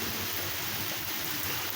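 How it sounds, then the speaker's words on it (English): Rain pouring outside in Independence, Missouri, a dense, steady broadband hiss that holds evenly throughout, fairly faint and with no voices over it. "But it's raining over here, y'all."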